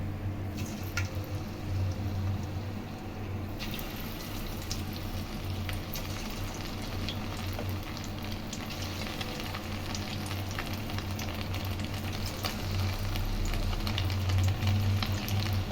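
Egg 65 pieces frying in hot oil make a continuous, close crackling sizzle with scattered pops, swelling a little louder near the end, and no talking.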